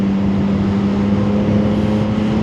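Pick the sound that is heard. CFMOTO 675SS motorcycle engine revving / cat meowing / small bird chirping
CFMOTO 675SS motorcycle engine revving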